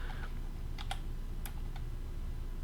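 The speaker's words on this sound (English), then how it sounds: "So I'm gonna type in" Several quick keystrokes on a computer keyboard make sparse, crisp clicks, close and fairly soft, with no speech over them.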